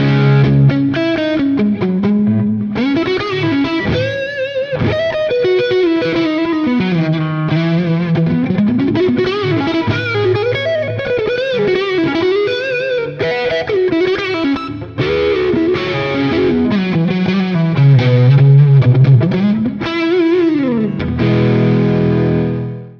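Overdriven electric guitar run through a Greer Amps Moonshot pedal with its tone set to push the low mids. Continuous bending, singing lead lines play up close and loud, with no talking over them.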